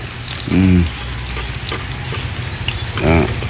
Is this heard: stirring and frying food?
yes